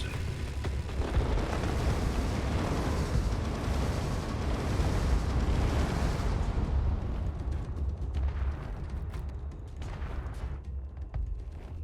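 Heavy weapons fire in the space combat game Space Engineers, between Warhammer 40K-themed fleets: a dense, loud stretch of deep booming blasts and rumbling explosions that thins after about six seconds into scattered, fainter impacts.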